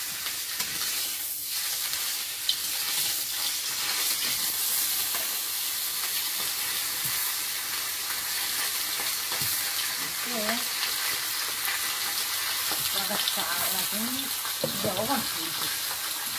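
Fish frying in hot oil in a pan, a steady dense sizzle that carries on without pause, with a few faint scrapes and brief voices in the background.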